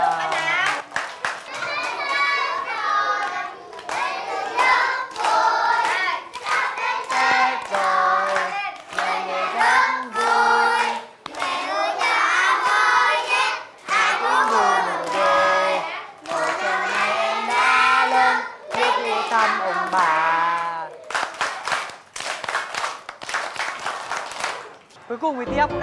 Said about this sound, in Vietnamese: Đây thì cả lớp vỗ tay đón chào bạn Hấp.